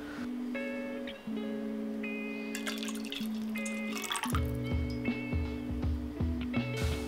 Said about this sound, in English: Take 250ml of your pork broth from the pan and transfer it to a jug.